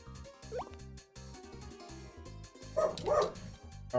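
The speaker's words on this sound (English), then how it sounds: "she starts barking louder whenever I try to talk" A dog barks repeatedly in a quick rhythm, close and clear, with a couple of louder yelping barks toward the end.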